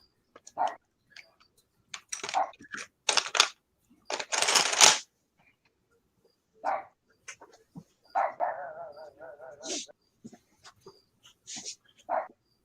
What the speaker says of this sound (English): that's your dog's barking?